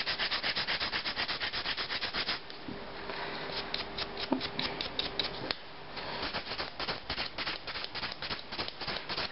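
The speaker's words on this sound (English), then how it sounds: "I like to file my nails up and down like this to get that really nice square finish" A nail file rubs across acrylic nails in quick, even up-and-down strokes. The scratchy rasping is close and steady, eases off briefly about a third of the way through, then picks up again with no voices.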